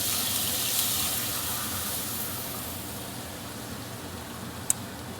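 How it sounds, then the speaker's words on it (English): Water poured from a cup into a hot pan holding crumbs and a little oil, giving a steady broadband hiss and sizzle that stays loud and even throughout, with a brief sharp click near the end. "I'm gonna add some water."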